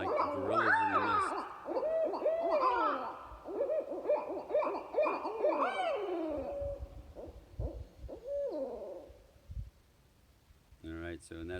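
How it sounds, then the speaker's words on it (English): A great horned owl is heard nearby in a yard, with deep hooting calls repeated over several seconds before tapering off, while people talk over and between the hoots. "that's the great horned owl"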